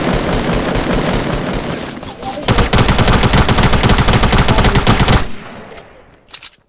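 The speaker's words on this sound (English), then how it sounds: "Please stop shooting at me." Loud video game gunfire: a dense burst of rapid machine-gun fire that roars for several seconds, then cuts off abruptly and leaves a few isolated pops.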